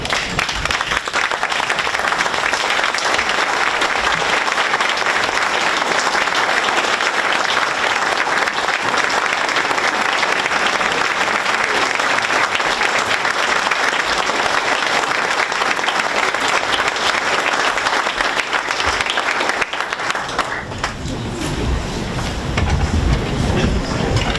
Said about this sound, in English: I would like to ask you all to stand and give them a big round of applause.